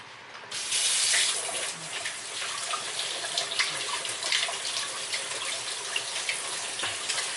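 Raspberries rinsed under a running kitchen tap, a steady close gush of water that swells at the start and then flows on evenly, splashing over the fruit.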